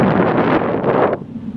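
Strong gusty wind buffeting the microphone at the beach at Étang-Salé, Réunion, loud rumbling roar that drops off abruptly near the end.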